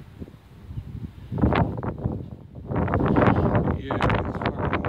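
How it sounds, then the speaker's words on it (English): Gusty wind buffets the microphone in surging, rumbling waves, growing stronger and louder in the second half. "Yeah, it's fucking windy as hell."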